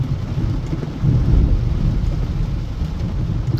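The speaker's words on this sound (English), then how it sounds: "This is heavy rain." Steady, torrential rain in Boca Raton pours down with a deep rumble of thunder rolling beneath it, loud and continuous with no voices.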